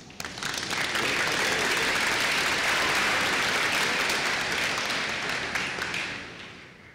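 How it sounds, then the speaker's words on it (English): A graduation ceremony audience at a spring commencement applauds in dense, sustained clapping that swells quickly, holds for several seconds and then tapers off near the end. "Please give them all a round of applause."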